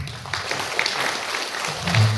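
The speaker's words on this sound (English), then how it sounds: "can we have a big round of applause?" An audience at a combined girls' and boys' hostel event applauds, a loud, dense wash of clapping that carries on steadily for a couple of seconds in a large room.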